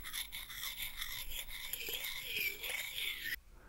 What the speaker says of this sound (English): I have some raw sounds like this Foley scraping